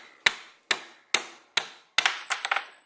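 Four sharp, evenly spaced metallic hammer taps on a pin in an AR-15 rifle build, followed by a quicker burst of lighter hits that ends with a faint ringing tone.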